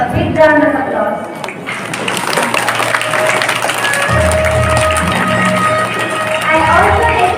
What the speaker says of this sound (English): I request all to give a big round of applause.